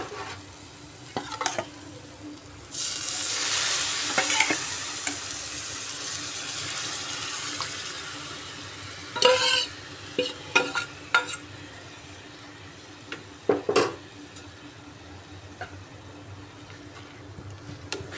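Boiled masoor dal tipped into a fried spice paste in a kadai for an egg masoor dal, with a sustained wet sizzle and scraping stirs, then scattered spoon clinks and knocks against the pan.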